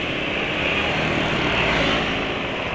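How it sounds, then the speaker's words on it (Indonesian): A motorcycle engine idling smoothly on fresh PAO and ester oil, a steady even drone that holds at constant loudness throughout with no knocks or surges. "suara mesin sudah halus"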